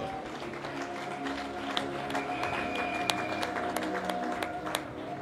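Church congregation applauding and cheering in praise during a fasting and prayer service, a dense steady spread of clapping with scattered sharper claps and crowd voices, moderately distant and sustained throughout.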